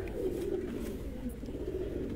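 Heavy-bodied, thick-headed pigeons at a home pigeon show coo steadily in a low, continuous rolling murmur, close and moderately loud, with no talk over them.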